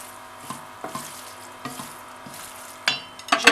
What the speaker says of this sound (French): J'ajoute les tomates cerises.